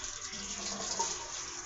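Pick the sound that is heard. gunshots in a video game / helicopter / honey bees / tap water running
tap water running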